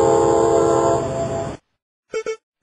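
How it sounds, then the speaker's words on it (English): A cargo train rumbles past with a steady rolling drone for about a second and a half, then stops; two short horn toots follow. "Cargo train."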